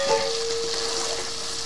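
Torn green chillies fry in spiced oil for a Bengali prawn and taro stolon dish, making a continuous close sizzle with light stirring.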